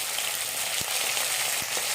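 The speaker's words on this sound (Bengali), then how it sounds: "অল্প তেলে মাছগুলো কত সুন্দরভাবে ভাজা হয়ে যাবে" Khoira fish frying in a little oil, a steady close sizzle with a few soft stirring knocks, no voices.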